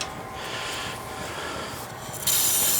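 A brush scrubbing steadily across a wet surface in continuous rough strokes, close and fairly loud, with a brighter, harsher burst of scraping near the end and no voices.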